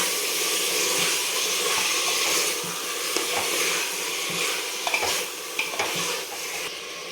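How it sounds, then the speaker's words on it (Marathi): Soaked mutton sautés in hot oil for a traditional black mutton curry, a dense continuous sizzle and hiss with occasional spoon scrapes and pan knocks near the end. "छान ह्याला तेलामध्ये एक मिनिटभर आपण चांगलं परतून घेणार आहे"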